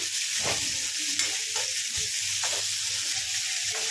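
Onions frying in a pan for an egg fry, a steady loud sizzle with occasional stirring scrapes throughout, close and continuous with no talking.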